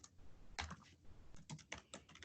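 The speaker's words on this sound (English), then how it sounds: "I'm going to type the question" Quick bursts of typing on a computer keyboard, soft clustered key taps with short pauses between groups, close and fairly quiet.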